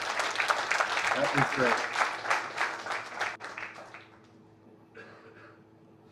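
Conference audience applauding, a dense wash of clapping that fades out over a few seconds while a speaker talks over it.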